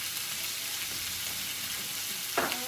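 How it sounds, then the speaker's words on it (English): Onion with minced garlic and ginger sizzles steadily in a hot pan, a continuous close frying hiss with a brief stir or clatter near the end. "We are going to add onion, minced garlic, minced ginger"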